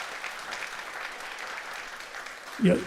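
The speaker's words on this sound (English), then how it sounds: "So a round of applause for these two, please." Audience at a music event gives a round of applause, a steady wash of clapping heard throughout, with a brief louder burst near the end.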